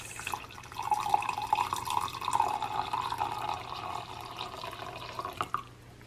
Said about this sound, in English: I'm just gonna pour a nice small cup of coffee